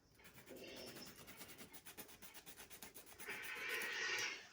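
White bouillon being grated by hand for chicken soup, a faint, close rhythmic rasping of repeated quick strokes, alone without talk.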